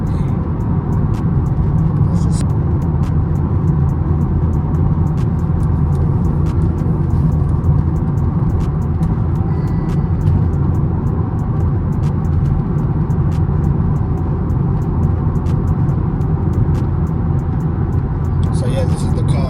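A BMW 340d M Sport xDrive hums with a steady, loud low engine and road rumble from inside the cabin, unchanging throughout, with quiet voices under it.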